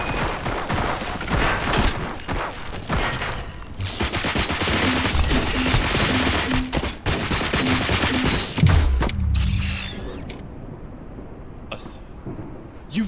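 Heavy gunfire from a RoboCop Rogue City video game battle crashes in loud, sustained volleys with dense bursts and booms, fading toward a quieter tail near the end.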